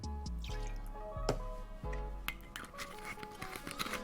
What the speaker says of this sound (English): Every time I pour Mezcal,